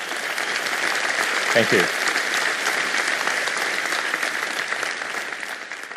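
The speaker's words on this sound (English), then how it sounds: "I'm not used to being interrupted by applause" Audience applause fills a TED talk hall, a steady dense clapping that runs the whole time, with a speaker briefly saying a couple of words partway through.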